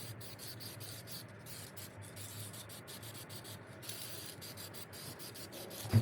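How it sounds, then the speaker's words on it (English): Spray painting of race car wheels in a workshop: a steady hiss and rubbing wash runs throughout, fairly quiet and continuous, with a brief louder knock at the very end. "We are spraying the wheels quickly before we get off"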